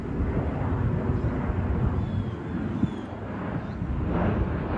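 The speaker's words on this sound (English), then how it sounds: "Look at that big old jet." A big jet airplane flies overhead on approach to an airport, a broad continuous roar that swells slightly toward the end, heard outdoors through some wind noise.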